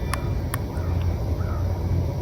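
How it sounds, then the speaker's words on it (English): Crows give two sharp caws early, then fainter calls drift in over a low steady outdoor rumble at a cemetery, with the birds sounding somewhat distant. "Birds."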